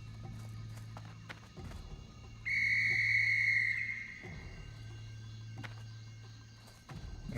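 A whistle is blown in the World of Warcraft Classic Cataclysm game: one loud, clear, sustained tone lasting just over a second. It sits over a low droning game ambience with occasional soft thuds.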